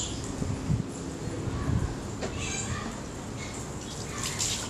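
Tap water running steadily onto aquarium gravel for a marine reef tank substrate wash, a continuous close hiss and splash with faint clatter of stones, no talk.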